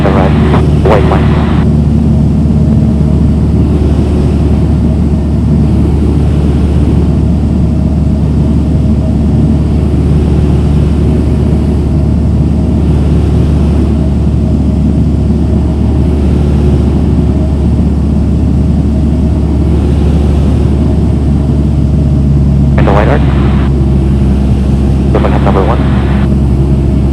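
A light aircraft comes in to land during specialty takeoff-and-landing practice, its engine a steady, loud cabin drone throughout, with short crackly radio bursts near the start and end.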